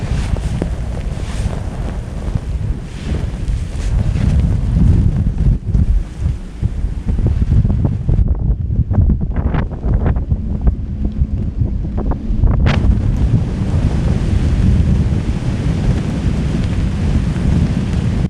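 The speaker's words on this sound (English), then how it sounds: "these gusts here are actually not that powerful anymore" Winter storm wind gusts roar around a boat frozen into the ice in Greenland. The heavy rushing buffets the microphone almost without pause, easing only briefly midway before surging again.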